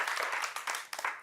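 Studio audience on a French quiz show applauding a contestant, a dense steady patter of many hands clapping at moderate level for just over a second.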